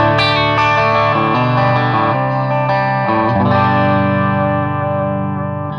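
An electric guitar on a single-coil bridge pickup with the tone control rolled a quarter turn back plays overdriven chords and sustained notes, warm and slightly darkened, ringing out and fading at the end.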